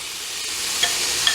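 Steak and potatoes fry in a pan, a bright, close, continuous sizzle with two sharp spatter pops.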